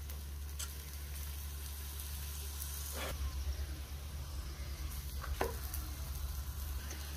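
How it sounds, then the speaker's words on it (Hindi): An aloo paratha roasts with ghee on a tawa, a faint steady sizzle over a low hum, broken by a few sharp clicks and taps, heard close with no talking. "पराठे को सेकने के लिए मैंने यहाँ पर एक तवा ले लिया है, जिसमें थोड़ा सा हम घी डाल देंगे।"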